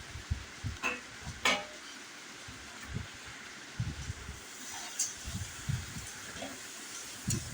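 A spoon stirs fried onion into a pot of boiling okra curry, giving soft irregular scrapes and knocks against the pot over a low bubbling background.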